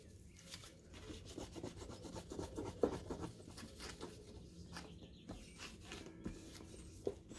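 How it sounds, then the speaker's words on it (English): A cured resin coaster from a malachite-and-gold puzzle set is wiped down with alcohol on a cloth, giving a steady soft rubbing and rasping with a few sharper scuffs, close and continuous, with no talking. "I'll take a little bit of alcohol and clean it off."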